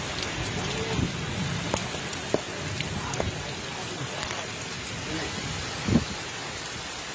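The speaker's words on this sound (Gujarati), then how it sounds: "વીજળીના કડાકા ભડાકા સાથે ધોધમાર વરસાદ વરસ્યો હતો" Heavy monsoon downpour in Gujarat: a dense, steady hiss of rain hitting surfaces, with a few sharper low thumps standing out. No one speaks.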